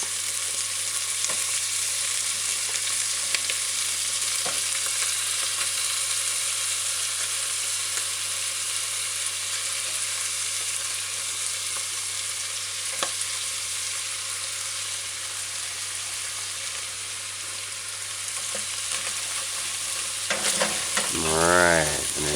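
Broccoli florets fry in a saucepan over medium-low heat for a beef and broccoli oyster sauce dish, giving a steady, close sizzle with faint stirring clicks throughout and a brief voice near the end.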